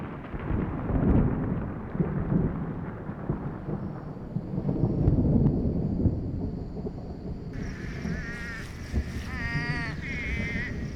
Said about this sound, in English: the rains that arrived on the wings of thunder fade with the evening light